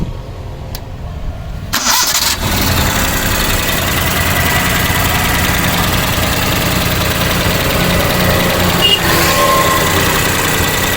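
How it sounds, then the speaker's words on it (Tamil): A Maruti 800 car engine settles into a steady idle after a short startup surge. The sound is loud and close, an even, rough hum with a faint rattle and no talking. "வண்டியோட இன்ஜின் சவுண்டை பார்த்தீங்கன்னா நீங்கள் கேட்டிருப்பீங்க"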